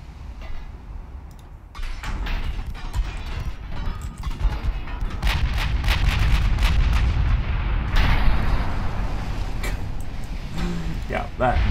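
Heavy battleship gunfire from the naval warfare game Ultimate Admiral Dreadnoughts, with a continuous loud rumble of booming salvos and crashing impacts that swells throughout.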